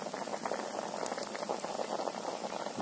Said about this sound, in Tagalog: Kulo-kulo. Kumukulo-kulo. Kumukulo-kulo.